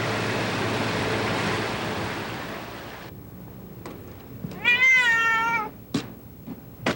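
A cat meows once clearly and close, a rising and falling cry heard after steady wind-like rushing noise during a river flood evacuation, followed by a few short clicks.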